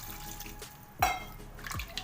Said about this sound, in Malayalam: നമുക്ക് ആവശ്യത്തിന് കുറച്ച് വെള്ളം കയ്യിലൂടെ ഒഴിച്ച് കൊടുക്കാം